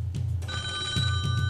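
A telephone rings in a TV studio as a viewer's call comes in, a steady electronic ringing tone with a soft pulsing rhythm over a low hum, heard alone.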